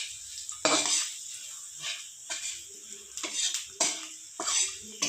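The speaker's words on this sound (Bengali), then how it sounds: "এবার এর মধ্যে দিয়ে দেবো একটুখানি হলুদের গুঁড়ো, আর একটু ভাজা ভাজা করে নেবো হলুদের সাথে।" A spatula stirs chili, onion and garlic frying with turmeric in a pan, making a series of sharp metallic scrapes and clinks at an uneven rhythm. A faint sizzle sits underneath.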